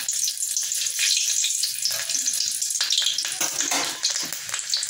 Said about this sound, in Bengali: তেল গরম হয়ে গেছে, আমি একটা কাঁচা লঙ্কা চিরা দিয়ে দিলাম।